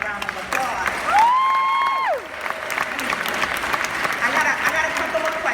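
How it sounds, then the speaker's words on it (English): Dense crowd applause at a 2018 culture convention, steady and loud throughout, with a single whooping cheer that rises and holds for about a second near the start. "Give this man a round of applause."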